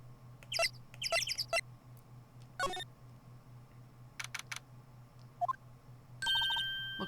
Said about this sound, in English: Yeah, the bird noises are good.